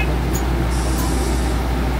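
Constant low rumble of idling buses and road traffic at a bus station in Dubai, loud and continuous, with a faint brief high squeal early on.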